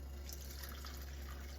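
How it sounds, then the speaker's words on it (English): Pasta water is poured into a simmering zucchini sauce, giving a steady, continuous trickle of liquid heard close and alone for a moment. "in comes a little more of our pasta water"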